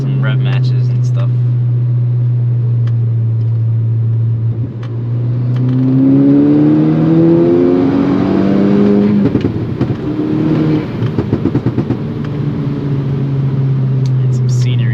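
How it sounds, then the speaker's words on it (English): A VW MK6 Golf R engine drones steadily, then revs up in several rising sweeps with blips for downshift rev matches on a rainy mountain road, loud and close, with a voice talking briefly at times. "But definitely gonna enjoy some noises,"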